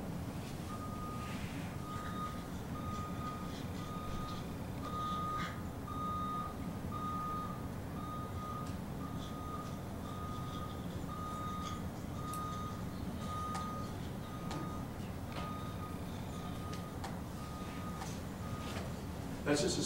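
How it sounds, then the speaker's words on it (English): A small stake truck backs up in a neighborhood street. Its reversing alarm gives evenly spaced, faint, distant beeps through the whole stretch over a low steady engine rumble. "that's just a small stake truck backing up"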